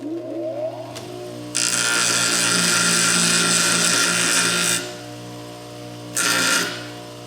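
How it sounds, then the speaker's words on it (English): Power grinder working the burr side of rivets on a saddle, a loud steady high whine for about three seconds, dropping to a motor hum, then a second short burst of grinding. "we're just going to grind, like I said, the tops or the burr side of these rivets"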